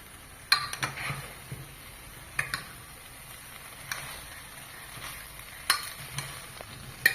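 Green chillies and chopped vegetables for vegetable pulao being stirred in a pan, with a few sharp spoon scrapes and clinks spaced every second or two over a faint, steady background hiss.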